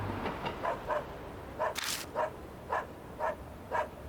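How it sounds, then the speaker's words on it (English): A dog in the video game Spirit Hunter NG barks repeatedly in a steady series of short, fairly faint yips spaced about half a second apart, with one brief noisy burst partway through. "I hear doggy."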